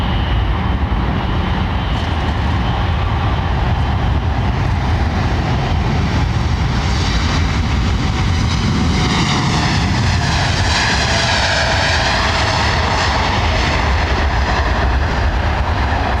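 Airliner jet engines roar steadily at London Heathrow Airport, a loud continuous rumble with a rising whine and shifting tone as an aircraft passes, heard alone without talk.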